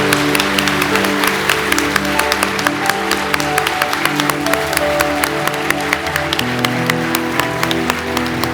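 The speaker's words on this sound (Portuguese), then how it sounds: "Uma salva de palmas." A church congregation applauds after a baptism, dense clapping running steadily through sustained music for the whole stretch.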